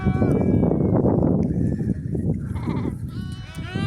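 Several sheep bleat loudly and close by, overlapping calls with a wavering tone, some shorter and higher toward the end.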